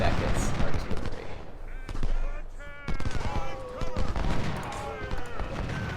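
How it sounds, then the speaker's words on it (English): Civil War video game battle during an attack on artillery, with repeated rifle volleys and scattered gunshots cracking over a dense battle din, alongside bursts of voices and game sounds. "Attack Beckett's artillery."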